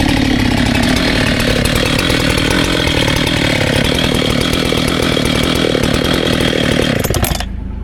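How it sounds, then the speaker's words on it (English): A Husqvarna chainsaw cuts through a huge fallen tree lying across a creek, running loud and close with a steady roaring drone, then cutting off abruptly near the end. "I'm going to shut the chainsaw down"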